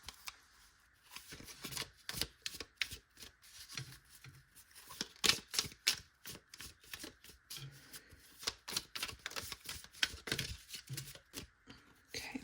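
A deck of oracle cards is handled and shuffled close up, giving quiet, repeated papery riffles and flicks in uneven bursts with short pauses between them.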